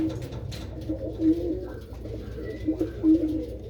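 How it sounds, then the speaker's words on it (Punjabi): A pair of pigeons, a red china cock and a pied hen, coo softly in repeated low throaty rolls, close but fairly quiet, with faint background murmur. "ਲਾਲ ਚੀਨਾ ਕਬੂਤਰ ਆ ਤੇ ਚਟੀਆਂ ਦੀ ਕਬੂਤਰੀ ਆ"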